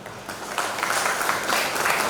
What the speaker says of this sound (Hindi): विवेकानंद जी के लिए एक ताली।